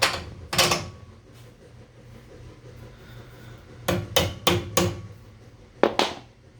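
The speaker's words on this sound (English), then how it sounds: "We'll tap them in with a hammer." A hammer taps bolts into an elliptical exercise machine during a repair, giving a single sharp knock, then a quick run of four metallic taps and two more near the end, close and fairly quiet in a still room.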